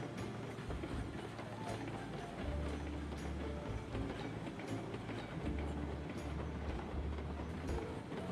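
Locomotive in the train game Railroads Online, running on a short, underpowered engine: a steady low rumble with faint rhythmic clicks and clatter over the rails, continuous throughout at moderate level.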